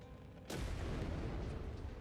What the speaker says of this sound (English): That is a very, very powerful explosion.